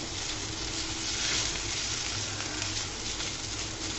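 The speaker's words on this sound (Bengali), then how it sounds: "এভাবে ভাজা ভাজা করে নিব।" A red chili powder filling fries in a pan, making a continuous, close, even sizzle with faint stirring, loud and steady, with no voices.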